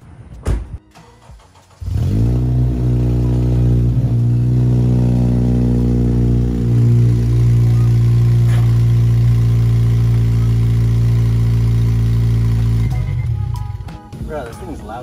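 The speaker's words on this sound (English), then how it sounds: "Let's hear this exhaust real quick." A Honda Civic's exhaust in a garage starts up and runs loud and close for about eleven seconds, revving and then settling to a steady idle before cutting off, with brief talk before and after.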